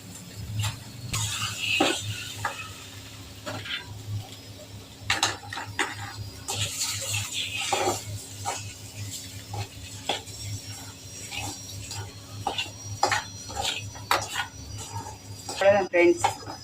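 Boiled egg pieces lightly fried in a pan, with a spoon stirring, scraping and clinking against the metal in an uneven rhythm, close and moderately loud, under some talk.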